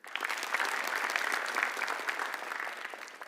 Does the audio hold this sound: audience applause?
yes